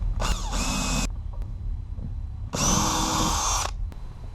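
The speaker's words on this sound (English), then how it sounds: "Then we're going to want to pre-drill all our holes." Two bursts of a power drill whirring as it pre-drills holes in a desk, each about a second long, separated by a short pause, close and loud.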